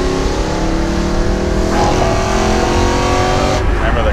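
BMW E92 M3 engine held high in the rev range in M Sport mode on a mountain road drive, a loud steady multi-harmonic roar that climbs in pitch with brief shifts in tone, with a voice faintly under it.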